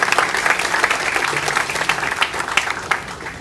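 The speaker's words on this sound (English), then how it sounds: "So please give a round of applause to your parents too and your family." A student audience at a college speech event applauds for parents and family, with brisk, close clapping and individual claps popping out of a sustained crowd roar.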